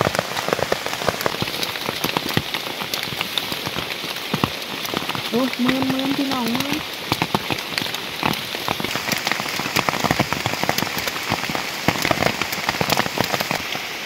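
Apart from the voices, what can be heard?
heavy rain falling in forest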